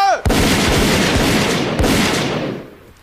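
A volley of rifle fire from a line of soldiers at drill, a sharp loud crack right after a shouted order, with a second burst about a second and a half later, both ringing out and fading.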